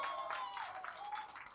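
Audience applause fills a film success celebration in a hall, a steady wash of clapping that holds evenly loud throughout, with no voices standing out over it.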